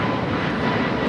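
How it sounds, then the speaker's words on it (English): An American Airlines A321neo jet taking off from Los Angeles airport, a steady broadband engine roar, loud and sustained with no voices. "This is American Airlines 513 taking off to Philadelphia on the A321neo"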